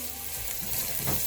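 Sliced onions sauté in a pan for egg chilly curry, a steady close sizzling hiss for just over a second, alone without talk.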